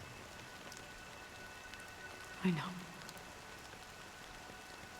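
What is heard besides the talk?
rain in Honkai Star Rail video game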